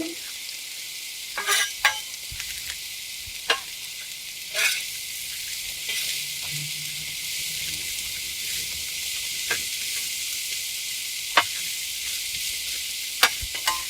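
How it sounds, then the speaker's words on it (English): Onions and mushrooms sizzle steadily in a hot pan, a soft continuous frying hiss with occasional clicks and scrapes of stirring, no talking. "let's get the onions and mushrooms on"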